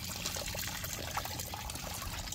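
Water trickles and splashes steadily onto a hot power tiler engine, a faint continuous dribbling heard close up with no talk.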